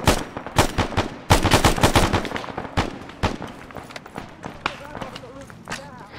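Rapid bursts of gunfire from the military shooter Arma 3, loud and dense at first with many close sharp shots, then thinning to scattered, more distant cracks.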